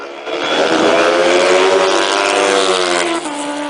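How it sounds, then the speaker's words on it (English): A methanol-fuelled speedway bike races a Suzuki superbike. The engines give a loud, sustained, close high-revving roar that holds steady for several seconds, then dips slightly near the end. "A speedway bike up against a Suzuki superbike."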